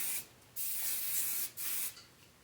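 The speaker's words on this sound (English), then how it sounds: "you can use any brand of shaping spray for this" Shaping spray misted onto hair in two bursts of aerosol hiss, the second longer than the first, close and fairly loud with no talking.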